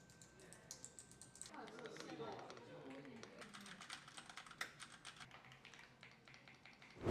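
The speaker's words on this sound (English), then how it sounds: "We have some background sounds, including typing" Rapid, uneven keyboard clicks tap away steadily at a moderate distance, with faint murmuring voices and low office hum in the background.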